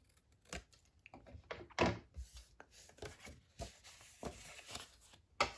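Scissors cut patterned paper at an angle for a 12x12 mini album, giving quiet, close, irregular snips and crisp paper rustles with brief pauses.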